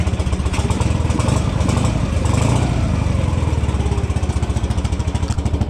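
Motorcycle engine running steadily after starting, with a fast even thumping idle close by and some mechanical clatter, loud throughout with no talk.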